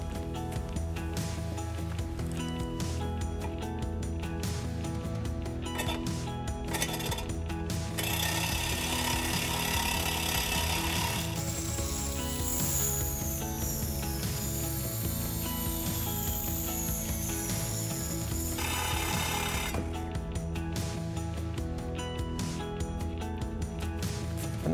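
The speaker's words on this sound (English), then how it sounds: "And that's how you get a good, clean, square cut using the Sawzall from Milwaukee." Milwaukee Sawzall reciprocating saw cutting through cast iron pipe, a continuous loud, grinding mechanical rasp that holds steady for the whole stretch, with a harsher, brighter screech through the middle of the cut.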